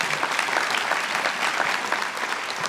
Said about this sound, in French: vous l'applaudir